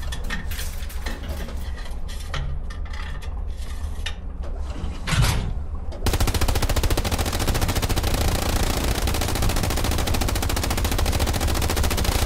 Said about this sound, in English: Just open fire.